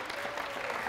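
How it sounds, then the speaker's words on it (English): Audience clapping steadily for Andrew during a team captain lecture, a brief dense burst of applause with no talking over it. "Give it up for Andrew!"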